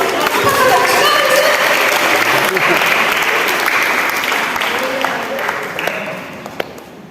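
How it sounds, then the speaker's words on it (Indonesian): A church congregation at a Sunday service sermon applauds loudly, a thick sustained burst of clapping that gradually thins and fades toward the end. "Tepuk tangan sama Tuhan."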